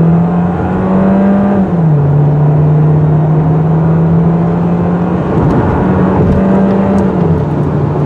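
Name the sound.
2019 Volkswagen Jetta turbo 4-cylinder accelerating 0 to 60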